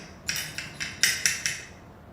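A metal scraper knocks and scrapes chaff out of a small coffee roaster, giving six sharp, bright clinks in an uneven rhythm, close and clear with no talking.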